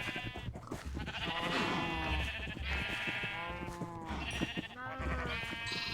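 Several sheep bleat in quick succession in Minecraft's All The Mods 9 modpack, their wavering, overlapping calls loud and close over a steady low game background with no talking.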